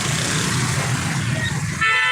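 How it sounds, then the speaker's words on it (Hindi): Vehicle horn honking on a busy Pakistani street, a steady blaring toot that sharpens near the end over continuous traffic rumble. "ये भाई हमें हॉर्न भी दे रहे हैं"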